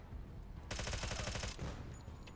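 Machine gun fire in the Door Kickers 2 video game: a dense, rapid burst of automatic shots lasting under a second, loud and close, with a short ringing tail afterwards.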